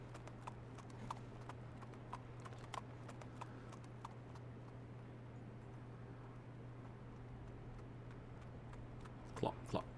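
Horse hooves clip-clop in the Sherlock Holmes: The Awakened video game, a quiet, steady trotting rhythm of light knocks over a constant low hum, with a brief louder cluster of hoofbeats near the end.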